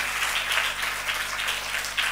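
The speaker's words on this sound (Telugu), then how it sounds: "చప్పట్లు కొట్టి దేవుని స్తుతించండి." A church congregation claps together in praise during a Telugu sermon on fasting prayer, forming a steady, dense wash of clapping at moderate loudness with no voices over it.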